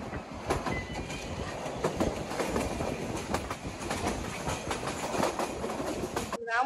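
A train runs toward Sylhet with a continuous rumble and rhythmic clickety-clack of wheels on rail joints. The sound is loud and close, with a brief squeal at the very end and no clear talking.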